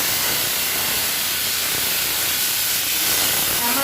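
Food poured into hot mustard oil in a pan while making mourala fish chochchori: a loud, dense hiss of sizzling erupts and holds steady for several seconds, close and unbroken, with no voices.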